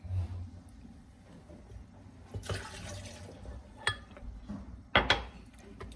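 Meat broth poured over chiles in a blender jar before grinding, heard as faint liquid splashing with sharp clinks and clatters of kitchenware, close and quiet, without speech.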